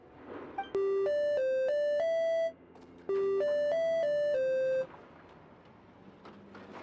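A machine in Genshin Impact plays electronic musical tone prompts: two clean, loud phrases of several stepped beeping notes each, separated by a short pause.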